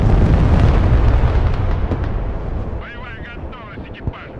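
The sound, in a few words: airstrike explosion in Broken Arrow video game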